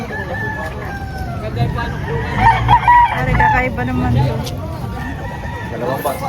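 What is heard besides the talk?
chickens and roosters crowing at a poultry market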